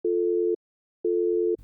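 A telephone busy signal after a call is hung up: two steady beeps, each about half a second long, separated by a pause.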